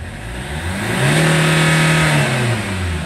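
A Chevrolet Captiva engine revs during an RPM check after a low-power fault, climbing to a loud sustained rise for about a second before easing back, close and alone.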